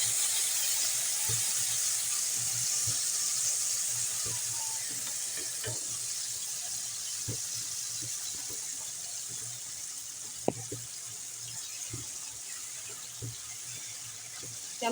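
Banana paste with cardamom frying in a pan: a steady, bright sizzle runs throughout, with a spoon scraping and clicking now and then against the pan.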